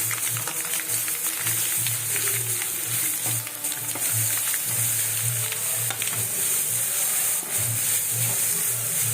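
Onions fry in hot oil for pulihora, giving a loud continuous sizzle and hiss with intermittent stirring, close up and without speech.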